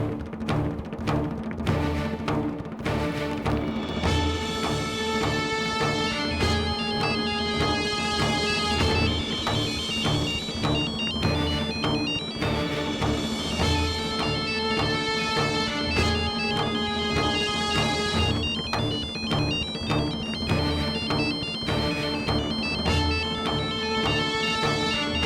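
A telephone ringtone from a French-language TV drama plays a continuous, melodic electronic tune of layered tones for about 25 seconds, loud and steady with no talking over it.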